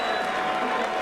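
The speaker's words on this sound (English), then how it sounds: "a round of applause for 2 warriors in the heavyweight division" Steady crowd applause fills an arena after a heavyweight boxing bout between Evander Holyfield and Riddick Bowe, a dense, continuous wash of clapping with faint cheering and no break.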